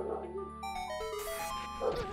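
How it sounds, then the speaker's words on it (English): A puppy barks in the game Zelda Ocarina of Time Randomizer, a short run of high, yappy electronic barks and yips set against game music tones. "Oh, it's a puppy doggo."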